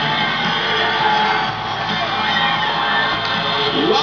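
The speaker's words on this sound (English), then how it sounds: "Over 1 million cheering and singing." A huge New Year's Eve crowd of over a million people cheers, whoops and shouts in a dense, continuous roar, loud and sustained with scattered individual yells rising above the mass.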